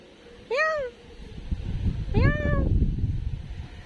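A cat meows twice, each a short, clear call about a second and a half apart, close by, with rustling noise rising behind the second.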